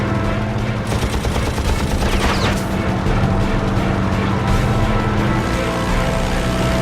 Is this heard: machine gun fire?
yes